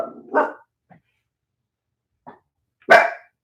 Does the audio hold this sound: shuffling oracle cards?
no